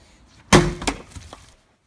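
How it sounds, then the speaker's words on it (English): A World War I shovel strikes a block of ice once, giving a sharp, loud crack and shatter up close, followed by a second smaller crunch and fading debris. "So let's see what it does to this ice block"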